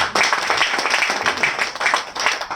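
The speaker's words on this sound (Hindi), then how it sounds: "मैं चाहूंगा एक बार जोरदार ताली हो जाए" Audience applause at a company direct-selling event, a dense, steady wash of many hands clapping together throughout, fairly loud and close, with no clear breaks.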